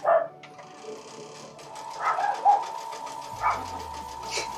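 Several puppies yip and bark faintly from behind a closed door indoors, a few short muffled barks spread over a few seconds against a quiet background hum.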